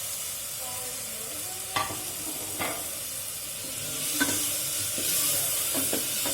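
Chopped tomato mixed into a masala frying in oil: soft steady sizzle and hiss with a few distinct spoon knocks and scrapes against the pan, close and fairly quiet.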